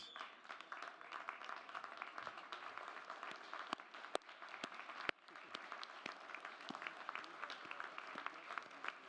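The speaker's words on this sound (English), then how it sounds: "give them a round of applause" Audience applause at a physical therapy (DPT) graduation and awards ceremony, with steady clapping from a large crowd of graduates, family and friends sustained throughout and a few sharper, louder claps standing out.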